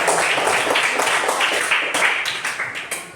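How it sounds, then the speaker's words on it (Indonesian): Classroom applause from a group of students, dense rapid clapping that carries at full strength for a few seconds before gradually thinning out. "Ya, kasih tepuk tangan dulu."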